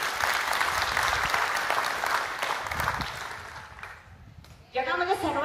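Teachers and children are applauded at a school event, a steady wash of clapping from a crowd that fades toward the end before a voice starts speaking.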